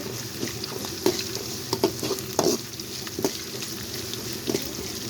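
Ginger paste frying in a pan, a steady close sizzle broken by repeated scraping stirs of a spoon against the pan, with no voices.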